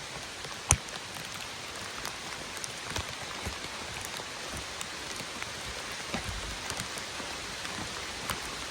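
Steady, heavy rain pours down continuously on the Appalachian Trail, a dense hiss of drops with occasional louder splats, and no voices.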